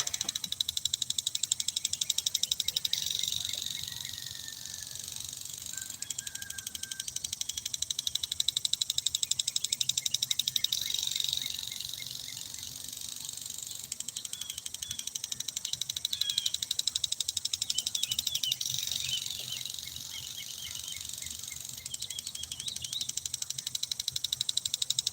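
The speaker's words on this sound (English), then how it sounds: "just listening to the sprinkler and the birds singing" Lawn sprinkler hissing steadily through a long stretch with a rhythmic swelling and fading as it sweeps, while birds chirp and sing in the background and chickens can be heard faintly.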